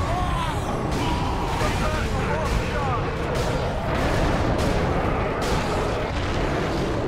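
Heavy gunfire and booming blasts from Warhammer 40K: Space Marine fill the mix, a dense loud barrage of repeated shots and explosions with game voices talking over it.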